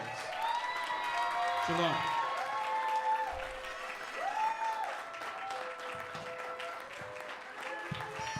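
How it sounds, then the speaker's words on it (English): Church congregation applauding presiding elders at a New Year service, steady clapping and cheering throughout with a voice speaking and tonal music over it. "Let's give them a round of applause."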